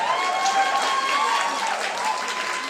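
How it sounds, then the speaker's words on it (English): Audience applause at a British junior women's weightlifting competition, a steady, dense wash of clapping from a crowd, sustained and fairly loud throughout, with no pauses. "Round of applause please for all your athletes."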